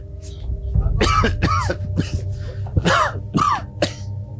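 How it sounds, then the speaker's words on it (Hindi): Several harsh coughs from an elderly man in quick bursts, fairly close, with short pauses between them and a low background hum throughout, in a TV drama scene. "इतना खांस रहे हो, दवाई नहीं ली क्या?"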